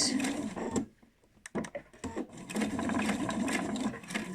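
A sewing machine backstitches the start of a seam on a fabric bowl cosy, with a short run, a pause with a few clicks, then a longer steady run close by.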